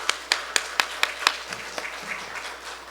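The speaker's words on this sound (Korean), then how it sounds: "격려의 박수 한번." Congregation in a Korean church gives a short round of applause: about six sharp claps in steady rhythm, then scattered lighter clapping and crowd murmur fading out.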